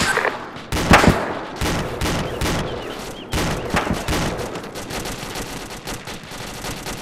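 Dense gunfire in Arma 2, bursts of rifle and machine-gun shots cracking in rapid volleys from the northwest, loud and continuous with only brief gaps.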